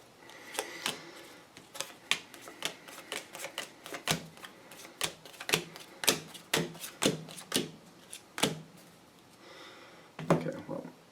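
A deck of tarot cards being shuffled by hand, heard as irregular bursts of crisp riffling and snapping card flicks, fairly close and moderately loud, with short pauses between runs and no talking.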